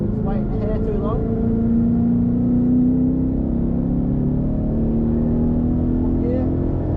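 A Ford Mustang engine pulls hard on The Bend West race circuit, a loud steady drone that climbs in pitch as it accelerates, with an instructor's voice talking over it.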